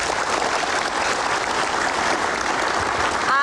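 Audience applause for university students from UHAMKA (Universitas Muhammadiyah Prof. Dr. Hamka) at a televised political debate, dense sustained clapping from a large crowd, loud and even throughout.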